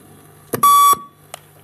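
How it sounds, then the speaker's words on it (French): A steady electronic beep from a shuttle-run fitness test holds for about a third of a second, framed by short clicks and a faint hum; another beep starts right at the end. "Ajustez bien votre vitesse sur les bips sonores."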